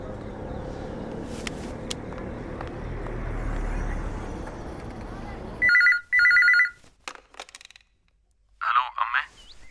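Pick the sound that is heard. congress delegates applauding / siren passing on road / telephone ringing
telephone ringing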